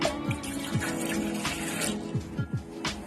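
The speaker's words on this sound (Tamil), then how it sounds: "வெற்றிலை டீ செய்யறதுக்கு ஒரு டம்ளர் தண்ணி சேர்த்துக்கிறேன்" A tumbler of water pours steadily into a pan for betel leaf tea, a continuous splashing flow with small clinks of metal, close by and fairly quiet.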